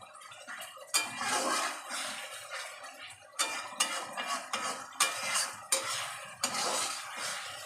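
Masala being stirred and fried in a pan for a tilapia fish jhal, a spoon scraping in repeated bursts over a steady oily sizzle, close and fairly loud with no talking.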